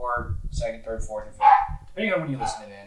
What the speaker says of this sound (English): That is a loud dog.